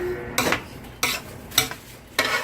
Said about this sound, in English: Gonna stir it, mix it real well.